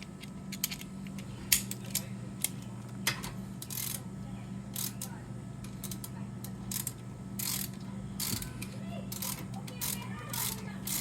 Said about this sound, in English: now we just put the screws back, the two screws we took it out